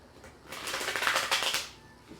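A brief riffle of tarot cards being shuffled, a soft fluttering burst lasting a second or so, close up with no voices.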